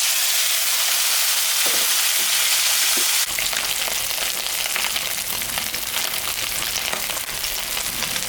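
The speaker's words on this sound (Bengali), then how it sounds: "তেলটা গরম হয়ে গেছে, মাছটা এখন আমি ভাজে নেব।" Tangra fish frying in hot oil in a kadai, a loud, continuous close sizzle that steps up sharply partway as the fish goes in, with crackles and spatter.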